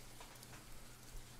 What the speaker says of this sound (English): listen to the rain, spend time with your family